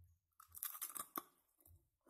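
Crunchy bites and chewing on a freshly fried potato fritter, a few sharp close crackles followed by softer munching, heard alone.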